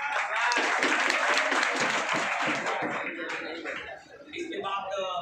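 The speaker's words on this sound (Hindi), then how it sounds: "इन लोगों की सफलता पर तो आप सभी लोग ताली बजा ही रहे हैं" Students clapping for successful candidates at a coaching academy in Patna, a dense burst of crowd applause that thins out toward the end.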